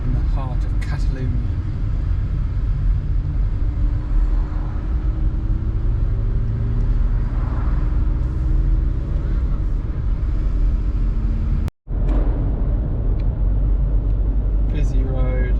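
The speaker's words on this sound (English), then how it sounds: "Busy road, lots of cars." Cars pass along a busy road in Catalonia, a steady engine rumble and tire hiss swelling and fading as vehicles go by close, heard from inside a moving car while someone talks over it.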